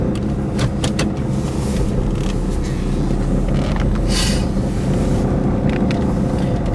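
A 1981 Pontiac Trans Am engine idles steadily and close by after dropping off high idle, a continuous low rumble with a few brief clicks and knocks on top, in cold weather with the heater running.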